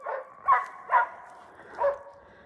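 Laika hunting dogs bark during a bear hunt, four sharp barks spaced unevenly over a couple of seconds, moderately loud with no talk.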